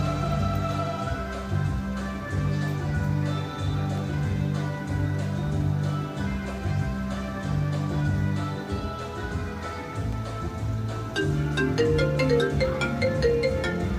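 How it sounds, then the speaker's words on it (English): A phone ringtone plays a repeating electronic melody, steady and fairly loud from start to finish, with a brighter, more rhythmic pattern toward the end. "Rashikesh Premes, your phone is ringing."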